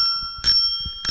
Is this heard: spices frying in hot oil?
no